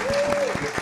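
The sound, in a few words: audience applause for a musician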